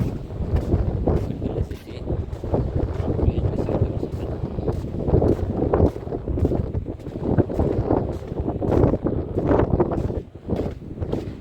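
Strong, gusty wind buffets the microphone steadily on a sandy beach at Kothakoduru near Nellore, a loud continuous roar with rhythmic pulses and no talk.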